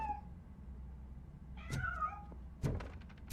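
A cat meows twice in RoboCop: Rogue City, one faint cry at the start and a clearer, louder meow a moment later, followed by a dull thump against a quiet background.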